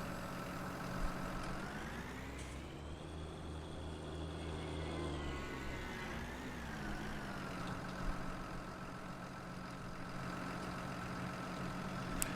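A tractor engine in the video game Farming Simulator 19 rumbles steadily at idle, a low, faint drone whose pitch rises and settles a few times as it revs, with no speech.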